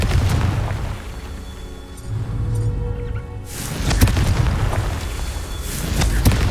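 Game explosions from the Confringo fire spell in Hogwarts Legacy: heavy, booming bursts with a rumbling low end, one big blast mid-way followed by further crashing impacts amid game effects.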